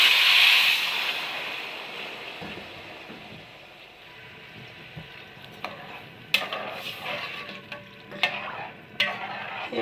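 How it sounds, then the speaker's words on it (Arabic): Water goes into rice frying in a pot. A strong hiss flares at the start and fades, then quiet bubbling follows with scattered clicks and scrapes of a spoon against the pot. "ودلوقتي هننزل بالمية بتاعته."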